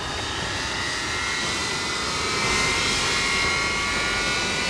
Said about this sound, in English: Engine start master on. You have ignition.